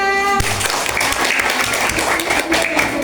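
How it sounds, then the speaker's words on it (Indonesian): A group claps together after a short tonal note, dense broadband clapping that stays steady and fairly loud for a few seconds. "Terakhir baru Mencoba memainkan tepuk tangan semuanya."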